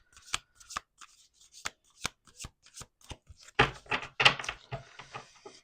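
Tarot cards are shuffled by hand on a table, a run of sharp separate riffles and taps followed by a denser, louder burst of shuffling, close up with no talking.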